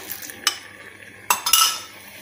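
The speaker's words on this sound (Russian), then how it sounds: "Все это тщательно перемешиваем и добавляем в ягодную смесь." Cornstarch slurry is stirred into a berry mixture in a pot, giving soft scraping and a few sharp clinks of a utensil against the pan, fairly close and with no talking.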